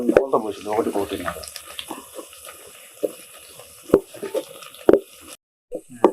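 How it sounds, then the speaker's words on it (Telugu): Water pours steadily into a pot for pulao, a continuous splashing gush close by. A voice speaks briefly at the start, and a few sharp knocks follow. "ఆరు గ్లాసులు నీళ్ళు పోస్తున్నా"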